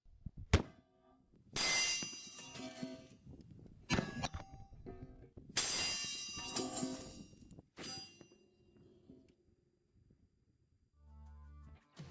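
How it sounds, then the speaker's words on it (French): A .50 caliber tracer round fired at a titanium plate about 1.25 cm thick gives a sharp report, then bursts of loud metallic clanging and ringing that sound again a few seconds later, with quieter clatter between. "on va voir si la balle traçante peut traverser ce pouce écart de titane"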